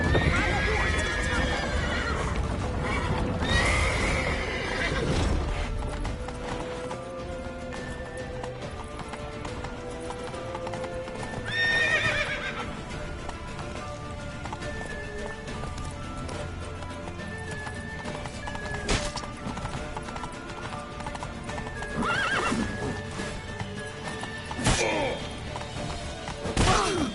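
Horses galloping and neighing in The Witcher video game, with rapid hoof clip-clops and whinnies running throughout, alongside game music, character voices and occasional crashes and thuds.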